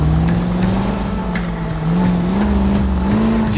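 A car driven in the video game L.A. Noire, its engine holding a steady, continuous hum that rises slightly in pitch near the end, loud and close with no talk.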